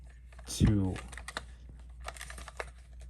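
Plastic keycaps being pried off a keyboard: a loud scraping snap near the start, then a series of small faint clicks and taps, with no talking.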